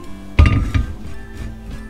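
Frying pan handled on a kitchen stovetop while preparing onions for a new-onion soup, giving a few clanking metal knocks clustered together, fairly close, then fading to quiet room tone.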